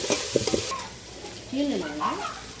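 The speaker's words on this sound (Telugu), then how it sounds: "తర్వాత టమాటాల సన్న తరిగినాయి టమాటాలు వేసేసుకుందాం" Chopped tomatoes drop into a hot frying pan with a few quick knocks and a burst of sizzling, then a steady hiss continues while a voice speaks over it.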